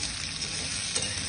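Onion, garlic and capsicum fry in hot oil, giving a steady, close, dense sizzle with a faint stir near the end for chili chicken.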